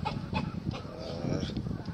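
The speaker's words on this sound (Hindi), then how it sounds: "ये नीचे देखें जी मुर्गियां, आवाजें भी आपको आ रही हैं मुर्गियों की" Chickens clucking and calling near village houses in the hills of New Murree, a busy overlapping cackle that carries on steadily at moderate loudness with faint background noise.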